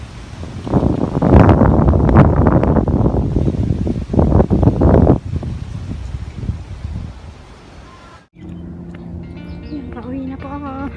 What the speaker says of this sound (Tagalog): Medyo malakas ang hangin ngayon.